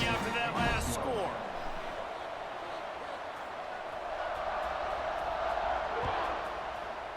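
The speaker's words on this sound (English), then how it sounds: "this crowd is buzzing after that last score." Stadium crowd at a football game after a score, a steady roaring buzz of many voices filling the space, with a brief louder burst of cheering at the start and a commentator talking over it.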